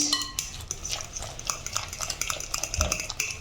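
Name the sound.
stirring a breakfast mixture in a bowl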